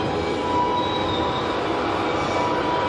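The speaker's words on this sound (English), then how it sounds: "Yeah, it's a full speed coal train probably." A coal train passes at full speed, a loud, steady roar of rolling wheels with a thin metallic squeal riding on top, close and continuous.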